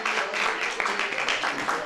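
A crowd at a Christmas program in Green Town, Lahore, Pakistan applauds to welcome a party leader to the stage, giving dense, steady clapping throughout at close range.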